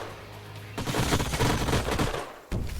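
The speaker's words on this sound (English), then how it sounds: "So let's just shoot the focus laser array again. And let's just shoot everything at this guy now." Focus laser array and other weapons firing together in Age of Wonders: Planetfall, a dense crackling volley of rapid shots starting abruptly, then a second burst near the end.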